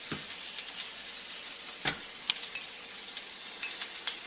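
Instant ramen noodles with a splash of soy sauce sizzle and fry in a pan, a steady soft hiss broken by occasional louder clinks and scrapes of a utensil stirring, with no voices.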